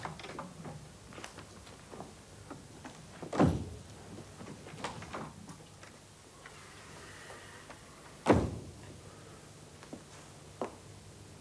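A door is tried and pulled open in a stage play, giving two solid thumps and rattles several seconds apart against a quiet room with scattered small ticks and creaks.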